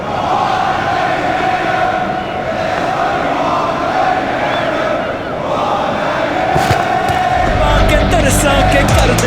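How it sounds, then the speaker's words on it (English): A T20 cricket crowd between South Africa and New Zealand roars and cheers steadily after a boundary four, loud and sustained, with a commentator talking and a burst of clattering noise near the end. "Crowd was brought to their feet by that shot."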